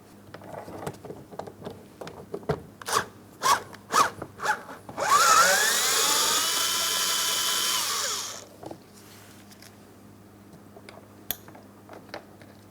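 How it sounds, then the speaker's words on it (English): A power tool whirs for about three seconds, backing out a 10mm headed door handle mounting bolt on a 2004-2008 Pontiac Grand Prix. Sharp clicks and handling knocks come before and after, close and loud. "Inside of each of those ports, you're going to find a 10mm headed mounting bolt. Remove the pair."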